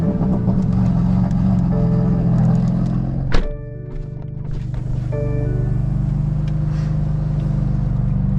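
A 2020 BMW F82 M4 with a 500 HP engine drones steadily from inside the cabin while driving, a low continuous rumble broken by a single sharp thunk midway before the engine note settles back in.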